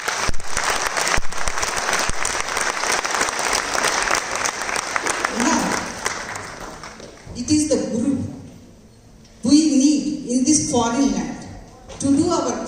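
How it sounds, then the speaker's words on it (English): Audience applause after a classical dance performance at a Salangai Pooja recital, loud sustained clapping from a crowd for several seconds that fades out, followed by a voice speaking over a microphone. "Please give them a round of applause."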